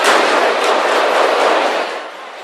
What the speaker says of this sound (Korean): 갑자기 총소리가 수차례 들립니다.